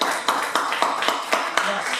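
A church congregation claps in a quick, steady rhythm, sharp hand claps repeating about four times a second, close and bright, with some voices faintly mixed in.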